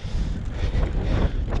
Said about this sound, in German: hier oben pfeift der Wind ganz schön.